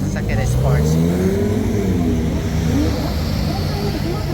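A sports car engine revving at Shibuya crossing in Tokyo, a loud throaty rise in pitch that swells and fades amid dense street noise, with people chatting close by.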